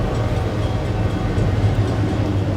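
A train passes nearby, producing a loud, steady low rumble that fills the whole stretch without pause and without voices.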